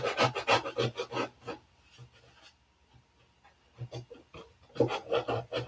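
80-grit sandpaper rasps over filler during auto body work in quick back-and-forth strokes, close and gritty, in two bursts separated by a pause of soft handling noise.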